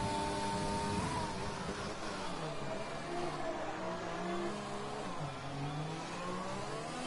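A Mercedes race car engine on a hot qualifying lap at Canada in a racing game, a steady high whine rising and dipping through gearshifts, loud and continuous with no talking.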